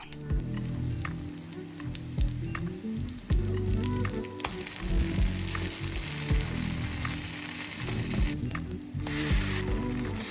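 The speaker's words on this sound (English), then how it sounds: "I fry them with olive oil until golden brown" Food frying in olive oil in a pan, a steady dense sizzle with crackling pops running throughout, close and moderately loud with no voices.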